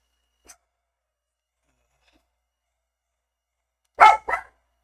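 Dogs barking indoors: two quick loud barks close together near the end, after a long stretch of near silence broken only by a faint tick.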